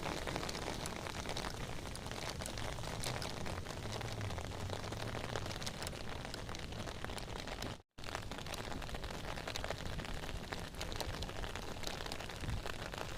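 Steady rain hisses across the whole clip, a dense broadband wash of falling drops with one brief dropout near the middle.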